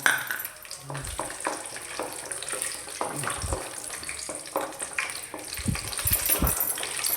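Cashews and raisins frying in melted ghee, a steady soft sizzle with scattered crackles and a few low knocks of a spoon against the pan, continuous and close.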